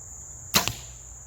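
An arrow is loosed from a bow during outdoor archery practice, giving one sharp, close whoosh followed quickly by a second softer strike, over a steady high insect-like drone.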